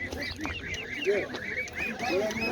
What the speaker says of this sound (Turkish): Şurada kazlar var reis ya.